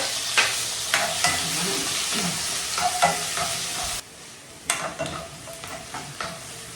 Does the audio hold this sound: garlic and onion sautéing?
yes